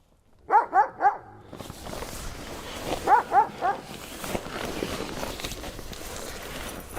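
A dog barks in two short bursts of three at night in a forest, fairly close and sharp, with shuffling footsteps and rustling between and after the barks.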